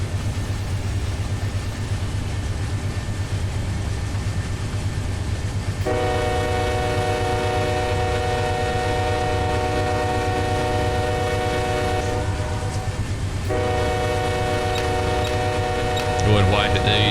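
A long, heavy train hauling about 9,000 tons of rock in Run 8 Train Simulator rumbles steadily at low pitch throughout, while a loud multi-tone horn blasts twice, one long sustained blow and then a second shorter one.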